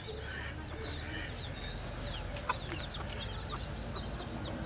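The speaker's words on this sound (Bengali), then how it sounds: "এই যে মুরগির বাচ্চা।" Chickens and their chicks at a rural duck and poultry house, with soft clucks and high peeping calls scattered over a steady low background hum, fairly close and without talk.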